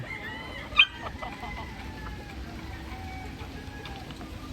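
Chickens at a farm coop making soft clucks and chirps with one sharper squawk near the start, faint and somewhat distant over a low background murmur.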